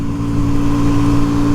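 An Orcal SK01 motorcycle engine runs close and loud, holding a steady, buzzing drone with slight rises in revs and no talking.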